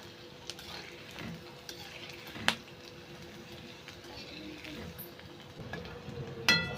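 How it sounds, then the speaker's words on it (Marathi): Medu vada made from sabudana and bhagar fry in hot oil with a steady, soft sizzle, punctuated by occasional sharp clinks of a utensil against the pan. "बाकीचे पण तळून घेऊयात."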